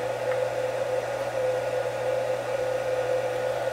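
A CNC router spindle spins at around 10,000 RPM, giving a steady, even whine with a low hum beneath, close and constant, with no talk.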